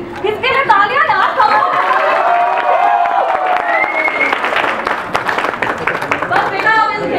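Loud applause from an audience at a birthday celebration, dense clapping mixed with chatter and some chuckling, with a voice speaking over the crowd.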